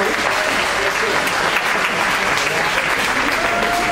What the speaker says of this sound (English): j'aimerais qu'on applaudisse cette petite fille qui parle extrêmement bien anglais